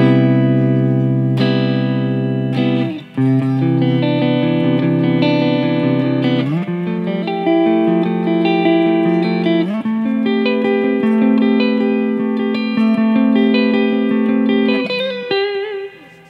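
Clean electric guitar, a Charvel Pro Mod San Dimas Style 1 HH HT on its neck pickup, with a warm, round tone, playing sustained chords and melodic lines with a short pause near the start, loud and alone.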